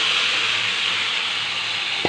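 Hot spiced oil in a pan for tadka dal hisses steadily as the lentils go in, a continuous close sizzle with a short clatter of utensil or pan at the end, no talk.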